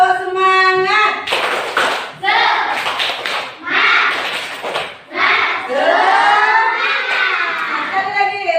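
A classroom of pupils does a rhythmic spirit clap, bursts of clapping mixed with loud group chanting and shouted voices in a steady, repeated pattern.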